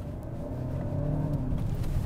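A 2024 Hyundai Santa Fe accelerates smoothly with a muffled, steady engine hum and a gently rising drone, heard from inside the cabin.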